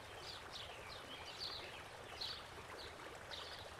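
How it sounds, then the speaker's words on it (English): A paintbrush rinsed in a water cup between strokes while painting a Christmas moose, giving a soft, continuous swishing and trickling wash, faint and close, with light higher chirps on top. "Let's rinse out."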